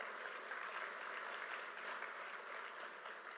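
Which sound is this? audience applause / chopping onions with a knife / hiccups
audience applause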